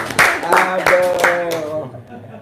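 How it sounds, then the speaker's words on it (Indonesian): A handful of audience claps break out at a talk, several sharp separate hits spaced about a third of a second apart, mixed with a voice speaking over them before the claps die away. "Tepuk tangan dong, biar nggak ngantuk"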